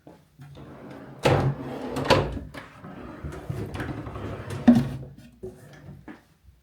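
Wooden dresser drawers in a Port Orleans French Quarter hotel room slide open and thud shut several times, close up, with sharp knocks spread over a few seconds.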